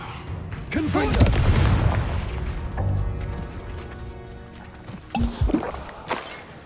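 Confringo explosive spell blasts in Hogwarts Legacy, several loud, close booms at uneven intervals with crashing debris between them, while a person talks over the fighting.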